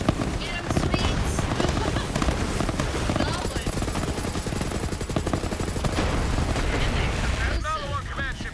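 Dense, continuous gunfire and explosions from turrets shooting at a command ship in Borderlands, loud and chaotic throughout, with a voice speaking over the barrage.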